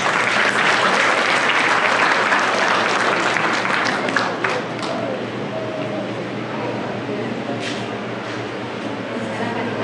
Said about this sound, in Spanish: pase por aquí, un aplauso